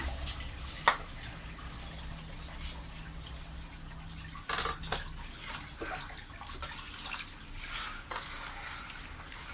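Sand being washed in water before planting bulbs, with sloshing, swirling and dripping water sounds, a few sharper splashes, heard close and alone.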